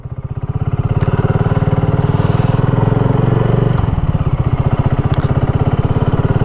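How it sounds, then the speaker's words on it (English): A 2025 BSA Goldstar Legacy Edition with a 650cc single-cylinder engine thumps along at a loud, close and steady pulse. The beat slows briefly as the engine eases off and then picks up again. "Got 45 horsepower, 650cc single cylinder in this bike."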